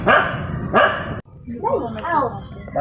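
A dog barks loudly nearby, two sharp barks followed by whiny, yelping vocalizations, with people talking in the background.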